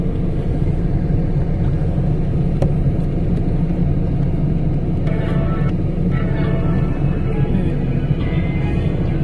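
Steady low road-traffic rumble of passing cars near a Makati house, continuous and fairly loud, with a few brief higher whooshes and faint background voices.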